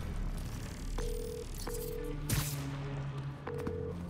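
A phone rings unanswered in Marvel's Spider-Man 2, repeating tonal ring bursts at an even pace over a low ambient hum, with a brief impact thump in the middle.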